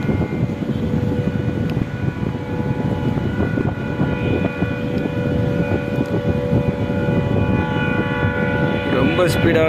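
A loud, steady mechanical roar with a sustained tonal drone layered on top, a train crossing the Pamban bridge at 100 km/h nearby and continuing without pause.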